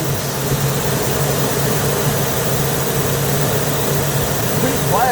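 A 2002 Fleetwood Storm motorhome engine, running again after eight years of sitting, idles with a steady low rumble and hum, close and constant throughout. Another sound starts to rise near the end.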